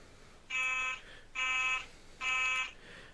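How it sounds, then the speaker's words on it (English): A fire alarm sounds three loud, harsh buzzing blasts in an even rhythm, each about half a second long with short gaps between. "There's a fire alarm."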